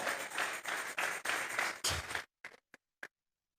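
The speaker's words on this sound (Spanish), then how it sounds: "Vamos a regalarle ofrenda de palmas al Dios de la gloria." A church congregation claps hands as an offering of praise, a burst of fairly faint, uneven group applause in pulsing waves that breaks off into a few last scattered claps.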